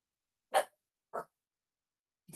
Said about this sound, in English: Oh, my dog just barked.